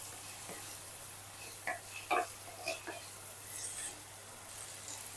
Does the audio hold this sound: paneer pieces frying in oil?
yes